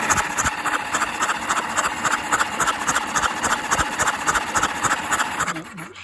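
An engine running rough with cylinders three and four dropping out, a steady pulsing chug with an uneven rhythmic beat and hiss, close and fairly loud, fading toward the end.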